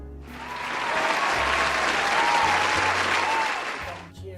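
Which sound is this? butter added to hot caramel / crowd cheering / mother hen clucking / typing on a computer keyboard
crowd cheering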